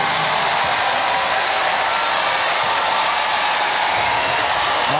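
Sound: volleyball crowd applauding server

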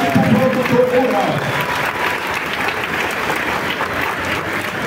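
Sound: audience applause

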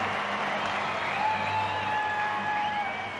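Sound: stadium crowd cheering at rugby sevens in Perth

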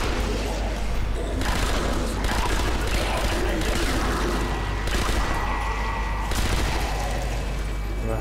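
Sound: mounted gun firing in the video game Nazi Zombie Army

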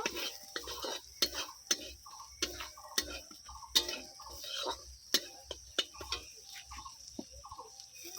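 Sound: frying spice paste with chilli and turmeric powder

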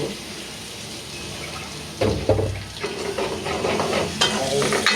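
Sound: prawns frying in oil

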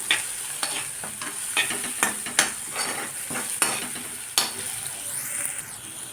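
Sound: turmeric frying and stirring in oil for vegetable Maggi

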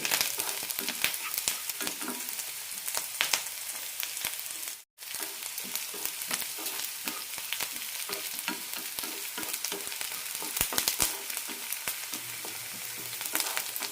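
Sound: onions frying in a pan for ridge gourd curry

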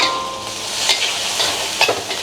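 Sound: stir-frying razor clams with fish sauce over high heat

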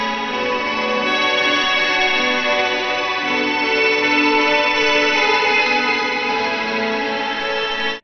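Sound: guitar through hall reverb, octave, multi-tap delay, chorus

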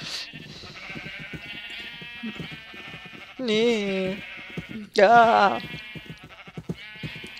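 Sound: sheep bleating in the video game Minecraft

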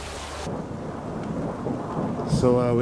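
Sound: rain and thunder at a mountain resort

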